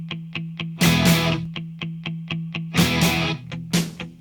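A rock track with two closely matched guitars chugging a steady eighth-note pattern in unison, one panned aside, punctuated by bursts of crashing cymbal and snare hits.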